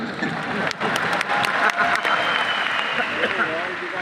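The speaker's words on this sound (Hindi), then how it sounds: "घबराने की बात नहीं, इस पे भी ताली मार सकते हो।" A room full of people claps steadily, loud and close, with a voice briefly audible beneath the applause.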